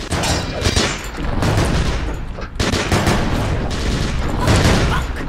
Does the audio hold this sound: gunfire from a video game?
yes